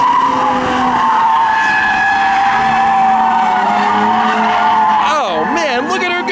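A BMW E30 with ITBs drifts on a track, its engine roaring under a long, loud tire squeal. The pitch swings sharply near the end as the car slides through the corner.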